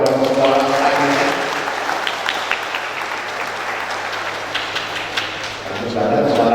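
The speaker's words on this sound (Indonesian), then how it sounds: "tepuk tangan paduan suara lainnya" Applause for a choir at a graduation ceremony of STAINU Madiun, broad steady clapping from a hall audience that runs throughout, with a voice talking over it near the start and end.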